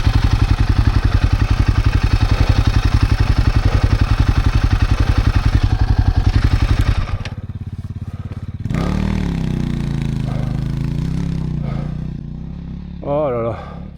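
A Royal Enfield Himalayan 450 motorcycle engine thrumming steadily with rhythmic pulsing on a rough path, then cutting to a lower idle with clatter, close and loud, with someone speaking near the end.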